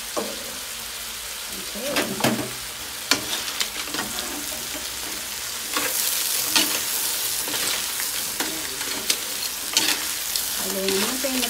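Crab sizzles steadily in a frying pan, with oyster sauce added, while a utensil stirs it in scraping bursts. A voice speaks briefly near the end.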